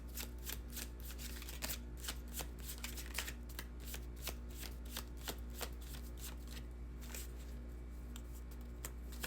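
Tarot cards being shuffled in quick, crisp riffling bursts, close and fairly quiet over a steady low hum, continuing through the whole stretch without talk.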